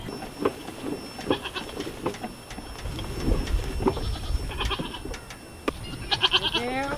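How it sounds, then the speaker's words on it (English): Goats on a farm bleat in a few scattered calls, with one louder, clearer call near the end, over outdoor background rumble and no talk. "There's the goats."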